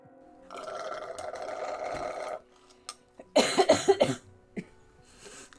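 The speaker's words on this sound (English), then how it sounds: "Use a cutscene to drink loudly and cough." A video game character in Stray drinks with a long, loud gulping slurp, a few small clicks, then a burst of harsh, close coughs that trail off into quieter sounds.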